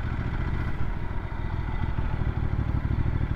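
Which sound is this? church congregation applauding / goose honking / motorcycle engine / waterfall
motorcycle engine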